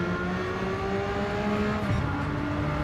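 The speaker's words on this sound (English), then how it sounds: "But it does almost sound like a mini V12." Race car engine in Gran Turismo 7 droning steadily with a smooth, slightly rising pitch that resembles a small V12, close and continuous throughout without talk.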